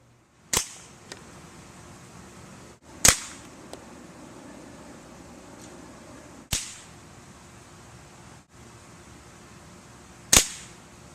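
A Weihrauch HW50S air rifle shoots paintball targets at 25 yards: four sharp, clear shots spread several seconds apart over a quiet outdoor background, with short faint clicks between them and no speech.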